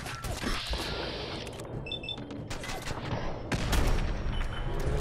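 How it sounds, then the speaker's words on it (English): Video game combat noise with a cluster of gunfire-like cracks and a heavier blast swelling near the end, set under a busy, mid-level mix of game effects. "what just exploded?"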